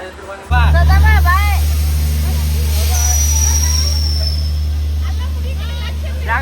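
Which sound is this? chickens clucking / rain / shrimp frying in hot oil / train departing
train departing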